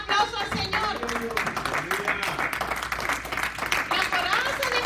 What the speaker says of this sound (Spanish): ¿Cuánto le da aplauso al Señor?